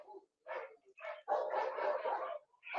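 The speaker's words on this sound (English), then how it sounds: "This is what it sounds like with barking dogs with the Zone Vibe Wireless." Dogs bark in the background in several quick bursts, picked up by a Logitech wireless headset microphone, fairly faint and close-spaced with short gaps.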